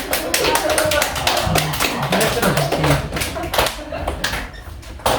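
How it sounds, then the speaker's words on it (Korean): Middle-school students clap in a physical education class, with sharp hand claps and tapping thumps coming in irregular bursts under classroom talk and chatter. "박수를 치세요."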